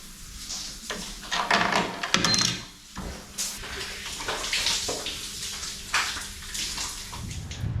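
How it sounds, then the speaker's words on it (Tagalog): Shower water runs at a campsite with a steady splashing hiss that swells and dips as the spray hits surfaces, with a few knocks and bumps and no talk. "So shower muna tayo."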